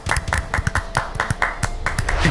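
Rhythmic clapping, a steady run of sharp hand claps at a quick, even pace, close and fairly loud.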